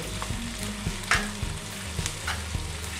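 Onions fry in hot oil for a restaurant-style mutton curry, a dense, steady crackling sizzle heard up close, with soft bubbling pops and a low background hum, no voices.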